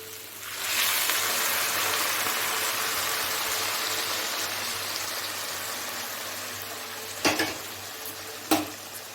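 Crab curry sizzles loudly and steadily in a pan as broth is added, a dense, close hiss that holds for several seconds, with two sharp utensil knocks near the end.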